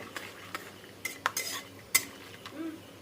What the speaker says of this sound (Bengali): এখন বাদামগুলি আমি ভাজবো কিছু সময়।